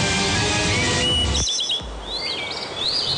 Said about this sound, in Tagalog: Sari-saring ibon na tila hineheleka sa kanilang mga huni.